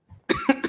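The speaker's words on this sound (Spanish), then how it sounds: "Perdona, que estoy un poquito de tos." A single person coughs close up, a short harsh burst of two or three rough hacks in quick succession, loud and dry with nothing else around it.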